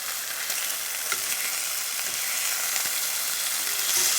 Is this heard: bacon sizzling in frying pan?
yes